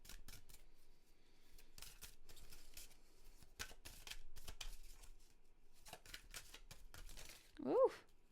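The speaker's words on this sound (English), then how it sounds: "I'm going to draw another Goddess Guidance card" Cards from a Goddess Guidance deck being handled and drawn, heard as faint, close paper shuffles and flicks in short irregular bursts, ending with a brief quiet voice.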